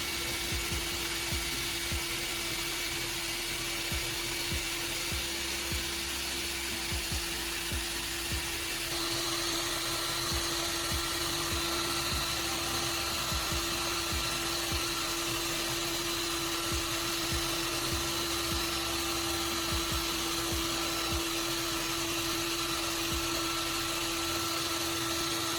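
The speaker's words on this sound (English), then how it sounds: "Now I move on to the larger blade, polishing it with the green compound on the drill." A power drill spins steadily as it polishes a pruning shear blade with green compound, giving a continuous loud whine and buzzing hum with slight shifts in tone and no speech.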